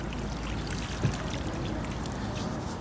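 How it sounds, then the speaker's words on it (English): Water is poured steadily into a soil well around a newly planted viburnum, making a continuous rushing trickle close by, with no talking. "when I fill up that with water, it all stays right inside that well"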